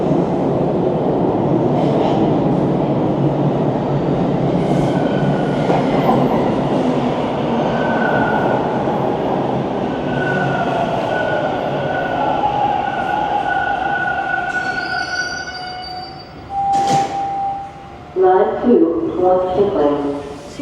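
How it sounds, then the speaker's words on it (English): Toronto subway train pulling westbound into Old Mill station in winter, a loud sustained rumble and rail whine with rising squealing tones near the end, close by and continuous. "Comes the train westbound."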